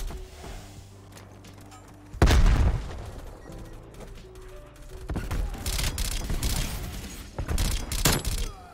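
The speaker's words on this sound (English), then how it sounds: "Why am I getting hit by so many grenades, bro?" Grenades explode in the video game Call of Duty Cold War, heavy booming blasts that burst suddenly and rumble on, with a second wave of explosive noise and gunfire later.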